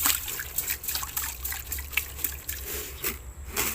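Salted table-salt brine poured into a bucket of cattle silage made with chopped grass and leucaena, a steady close trickle with small splashes and drips, fairly faint, with no talk.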